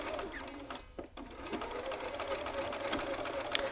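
A sewing machine back tacks across a garment yoke at a 1/2 inch seam allowance, running in a steady close whir with a brief pause and restart partway through, alone without talk.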